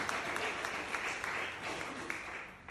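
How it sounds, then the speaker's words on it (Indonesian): A church congregation at an Indonesian sermon claps together, a sustained patter of moderate applause with a few sharper individual claps, gradually thinning toward the end. "Tepuk tangan buat Tuhan kita."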